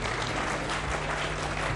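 An audience at a mushaira, an Urdu poetry gathering in Kandivali, applauds in a dense, sustained burst of many hands, loud and even from start to finish.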